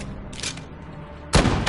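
Gunfire in the video game Call of Duty Modern Warfare, a 2v2 match on PS4: a short burst of shots, a lull, then a louder, denser burst of firing.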